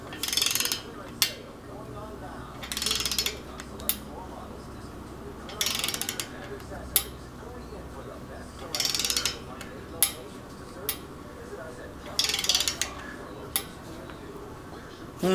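A wrench tightens a stock head bolt on a Subaru engine mounted on an engine stand in a shop, with periodic ratcheting clicks and creaks in short bursts between quieter pauses, close up.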